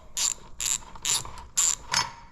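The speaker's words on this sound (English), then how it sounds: "take 2 13mm bolts out right here" A ratchet wrench backs out 13mm bolts on a 4L65E automatic transmission during a teardown, producing five crisp, close bursts of rapid clicking separated by short pauses, with no voices.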